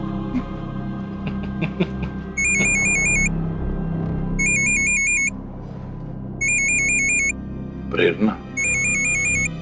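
A phone rings in repeated electronic trilling bursts with pauses between, loud over a low rumble, and a voice speaks briefly near the end.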